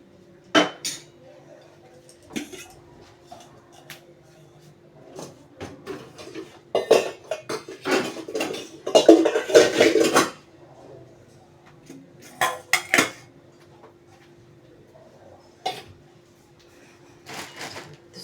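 Breakfast tea dishes and cutlery are put away in a home kitchen, with scattered clinks and clatters of steel utensils, a dense busy burst in the middle, then sparser knocks, close and fairly clear.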